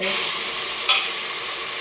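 Chopped vegetables hit a hot pan for idli sambar and sizzle loudly at once, with a brief louder burst of frying that settles into a steady hiss up close.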